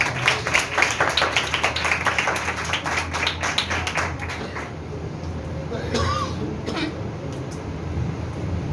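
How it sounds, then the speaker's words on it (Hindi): Church congregation clapping at a Hindi/Urdu-language sermon, a burst of dense claps for the first few seconds that fades into room noise and murmuring. "अपने जोरदार तालियां बजाइए।"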